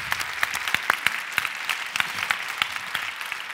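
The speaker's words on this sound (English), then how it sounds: "Let's go ahead and give one more round of applause" A keynote audience at a symposium applauds steadily for a few seconds, a dense patter of many hands clapping at an even level.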